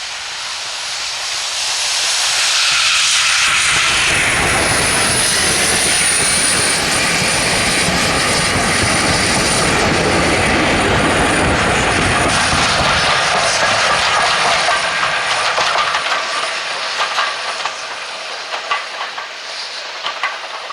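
Prairie tank locomotive No. 4566 hauls a train close by on the Severn Valley Railway, climbing a 1 in 100 gradient, a loud sustained roar of exhaust and rumbling wheels that builds, holds, then gradually fades away.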